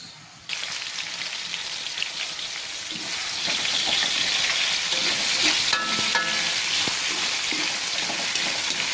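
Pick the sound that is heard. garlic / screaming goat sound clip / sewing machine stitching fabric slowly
garlic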